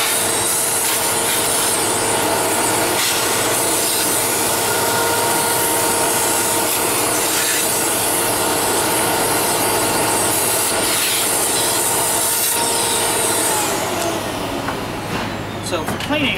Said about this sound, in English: So for cleaning up, any good shop vac will do.